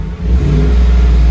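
A Chevy Silverado 5.3L V8 with its stock resonator revs hard, a loud, steady low-pitched exhaust roar held close-up with no talking.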